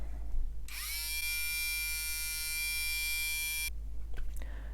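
Worker Hurricane foam blaster motor spins up with a sharp whine, holds a high steady buzz for about three seconds, then cuts off abruptly, up close and alone.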